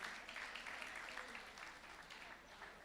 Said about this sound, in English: Please, could you appreciate all our sub-team speakers with a round of applause?